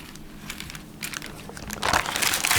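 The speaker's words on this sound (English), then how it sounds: "And just peel off the paper." Baking paper peeled off a freshly baked cranberry and pineapple tea loaf, a close crinkling and crackling rustle that grows louder and denser toward the end.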